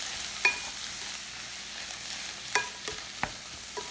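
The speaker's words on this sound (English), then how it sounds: "We're just going to saute this" Vegetables with red peppers sauté in a pan with a soft, low sizzle, broken by a few light scrapes and taps of a stirring utensil against the pan.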